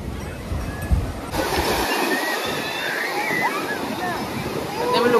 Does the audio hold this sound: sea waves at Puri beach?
yes